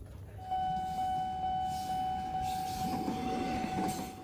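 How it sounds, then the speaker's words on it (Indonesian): A toy electric train gives off a steady electronic tone like a horn, with rumbling running noise underneath, held for several seconds at moderate loudness; no one speaks. "ini adalah kereta listrik."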